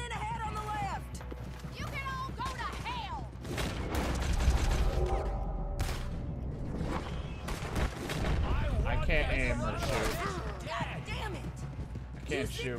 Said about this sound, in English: I'm getting shot and I can't even fight.